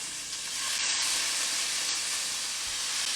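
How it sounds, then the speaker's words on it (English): Beef browning in a hot pot for an Irish-style beef stew, a steady loud sizzle and hiss of searing meat with no pauses, close up and alone without any talking. "we just want to brown the beef on each side for about 1 or 2 minutes"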